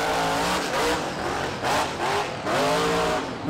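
Kraken monster truck revs hard during a slap wheelie in a Monster Jam arena in Tampa in 2024. The engine roars in three loud, rising-and-falling bursts, close and alone.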